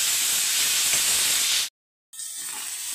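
Tomato tipped into a pan where karela (bitter gourd) bhaji ingredients are being sautéed, giving a loud steady sizzling hiss that cuts out abruptly for a moment, then resumes slightly quieter.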